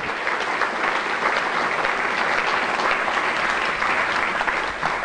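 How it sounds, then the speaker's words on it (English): An audience gives a sustained round of applause at a gathering honoring supporters, a loud, even wash of many hands clapping with no voices over it. "give them a round of applause"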